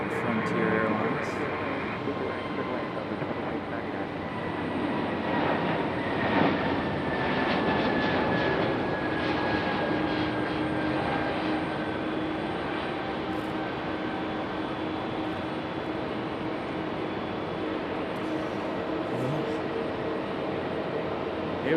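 Frontier Airlines jet moving at Raleigh-Durham airport, a steady broad engine roar with a faint whine that holds for the whole stretch, fairly distant and continuous, with no voices over it.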